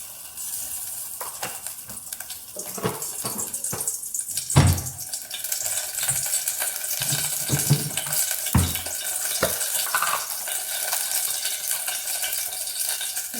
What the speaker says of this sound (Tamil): கொஞ்சமாக நெய் போட்டுக்கிறேன் ஆயில் கொஞ்சம் ஊற்றிக்கிறேன்